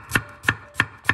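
A knife chops a red onion into half rings on a board, four crisp evenly spaced cuts close up, steady and unhurried.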